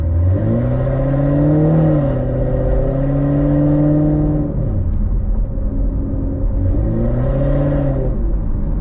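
A deep, throaty V8 in a 2014 Corvette Stingray Z51 with ARH long-tube headers, ARH off-road X-pipe and Corsa exhaust rumbles from inside the cabin, revving up and down in several rising and falling pulls over a heavy low growl.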